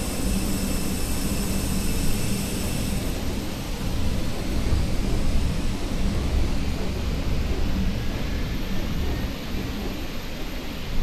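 Jet engine of a TAP airliner on the Porto to Lisbon route starting up: a broad, steady roar with a thin high whine, loud and continuous throughout, with no voices.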